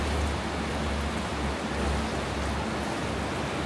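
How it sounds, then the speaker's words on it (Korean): Rain falls steadily at night on a street under a lamppost, a constant close hiss of drops with no break and no talking. "이렇게 비가 내리고 있습니다."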